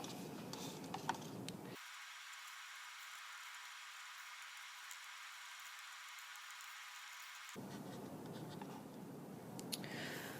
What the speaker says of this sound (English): When you are done drawing and impressing your texture onto your piece of metal